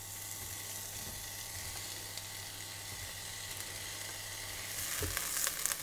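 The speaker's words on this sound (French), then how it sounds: "on va faire revenir les oignons pendant à peu près 2-3 minutes, le temps qu'ils deviennent translucides tout simplement" Onions frying in olive oil in a pan, a steady close sizzle with a dense hiss that holds throughout and swells slightly louder near the end, with no voices.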